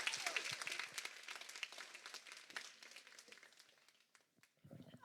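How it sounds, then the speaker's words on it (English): An audience applauds a speaker at a Port Hedland networking night; the clapping is fairly faint and thins out gradually, leaving only scattered claps near the end. "let's have a big round of applause for Tegan,"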